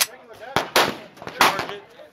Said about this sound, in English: Now I'm going to take a magazine of 9mm, place it in the Beretta